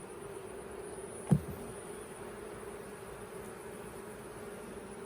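Honeybees buzz around hives outdoors during queen replacement, a faint steady hum with one brief thump partway through.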